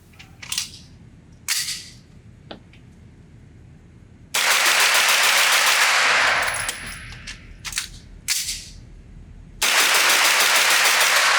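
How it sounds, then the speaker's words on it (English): A Taran Tactical Innovations Sig Sauer MPX carbine at a range, firing a few separate shots and then long bursts of very rapid, loud gunfire during a magazine dump, broken by a short pause. "see how fast I can shoot this trigger before I do a complete mag dump with it"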